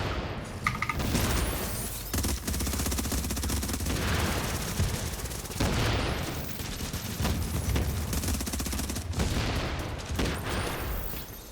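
Dense gunfire and grenade blasts in The Division, a shooter game, keep up a loud, nearly continuous barrage of overlapping shots and booms for the whole stretch.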